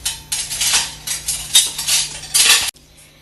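A spoon clatters and scrapes against a pot while beef roast is stirred by hand, with several loud clinking strokes in quick succession that stop abruptly near the end.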